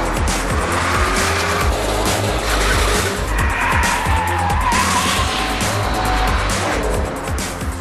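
A modern Shelby GT500 Mustang driven hard, its engine roaring loud and close while the tires squeal and skid almost continuously.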